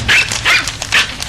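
Three loud, close dog barks from a TV in quick succession, evenly spaced over a low background hum.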